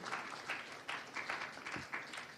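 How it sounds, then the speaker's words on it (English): Faint, distant round of applause from a symposium audience on children's rights legislative reform, a thin patter of claps with slight swells throughout. "one warm round of applause for Jessie"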